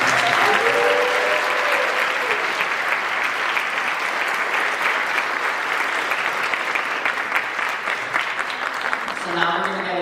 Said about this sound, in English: Give a round of applause for Catherine